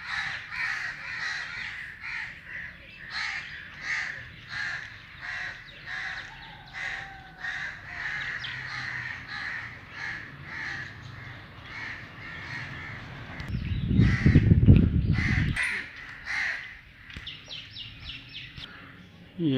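Crows caw repeatedly in a steady, rhythmic series outdoors, fairly close, with a brief low rumble of handling noise near the end and other birds chirping faintly.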